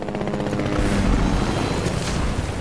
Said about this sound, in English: The helicopter put out the freaking fire.